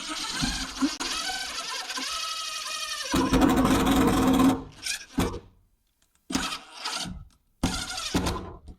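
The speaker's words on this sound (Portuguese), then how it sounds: "Ele tem uma ponta especial, uma broquinha na ponta para fazer esse tipo de perfuração no metal." A power drill drives a self-drilling screw with a drill-bit tip into the sheet-metal wall of a cargo trailer during window installation. A loud, steady whirring grind runs for about four seconds, then gives way to several shorter bursts separated by silent gaps.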